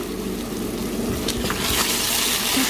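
Hot water pours steadily into a pan of chicken and potato curry, a continuous close gushing splash that grows slightly fuller toward the end.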